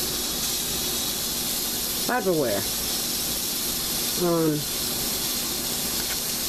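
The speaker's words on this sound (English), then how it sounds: "You hear that hissing sound? That is normal." Steam hisses steadily from the lid of a cooking pot of pickled pig feet, a constant close broadband hiss with brief voice sounds over it.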